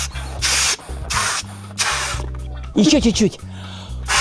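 A thin rubber balloon is blown up by mouth in a series of loud breathy puffs with pauses between them, plus a brief squeaky stretch of rubber, while a person speaks briefly.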